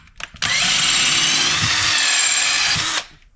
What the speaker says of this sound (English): We're just going to put a drill bit in there. We're just going to ream the hole